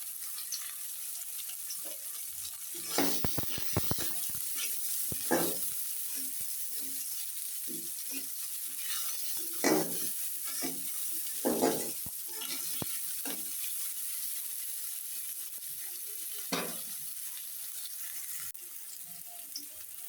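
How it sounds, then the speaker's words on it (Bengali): Onion and green chilli sizzling lightly in a pan, a faint steady frying hiss broken by scattered clinks and stirring scrapes from a utensil, with no talk. "পেঁয়াজ আর কাঁচামরিচ আমি হালকা করে ভেজে নিয়েছি।"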